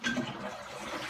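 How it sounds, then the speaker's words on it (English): A toilet flushes in a brief, soft rush of draining water, heard alone and fairly quiet. "There it is right there, perfect flush."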